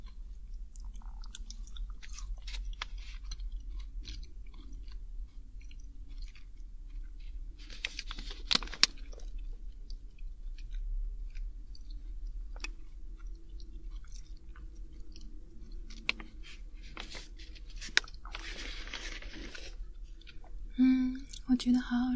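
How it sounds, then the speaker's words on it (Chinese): Cashews and raisins are chewed close to the microphone in a snack-tasting ASMR setting, with soft crunchy bites and moist mastication sounds scattered through the quiet, alongside faint whispery mouth noises. "我再来试一下腰果。 腰果 再加一个葡萄干，"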